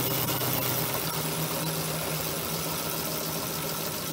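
A small electric motor runs at full voltage, giving a steady, even hum with a faint whine, loud and continuous throughout with no pauses and no voices.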